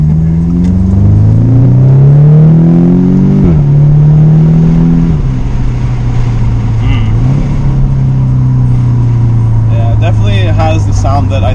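An Audi S3 with a CTS Turbo resonator delete revs hard. Its loud, close engine note climbs through several throttle blips, then settles into a sustained droning rumble, with people talking inside the car.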